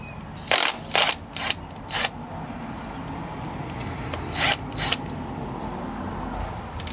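A socket wrench working the 10mm valve cover bolts on a 7th-generation Toyota Celica with a 2ZZ-GE engine gives a few sharp, separate ratcheting clicks in small bursts over a quiet garage background.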